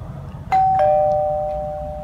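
A house doorbell rings twice in a quick ding-dong and the chime rings on clearly before slowly fading, heard close over faint background noise.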